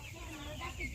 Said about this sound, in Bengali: ব্রয়লার মুরগিগুলো এগুলো অনেক বড় হবে, তারপর বিক্রি হবে।